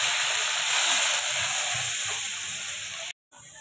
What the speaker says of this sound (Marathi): त्याच्यामुळे मी जास्त मसाला टाकते आणि तेलामध्ये चांगलं फ्राय करून घेते